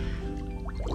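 A car wash mitt is sunk into water, giving soft close-up liquid sloshing and gurgling as it soaks, with a low background hum and no talking.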